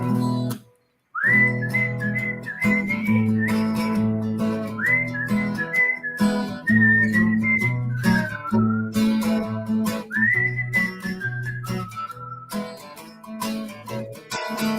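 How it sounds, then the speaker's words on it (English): A person whistling a bouncy song melody alone and close, clear sliding tones in lively phrases over a steady backing accompaniment, with a short pause near the start. "Okay, I'll try a bit of whistling."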